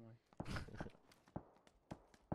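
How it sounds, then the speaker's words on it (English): Footsteps in the video game PUBG, a run of quick thudding steps at an uneven pace, partly under a player's voice. "Might hear that footstep, to be honest."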